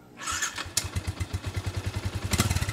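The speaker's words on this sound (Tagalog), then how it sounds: "ito yung sound check ng stock pipe" Stock exhaust on a Yamaha Sniper 150 V2 motorcycle starts up and settles into a steady, throbbing idle with an even pulsing beat, close to the microphone and heard alone.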